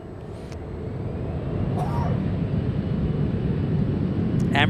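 An Emirates Airbus A380 readies for takeoff at San Francisco, its engines producing a steady, broad roar that slowly builds in loudness across the stretch, heard from a distance with a few faint clicks on top.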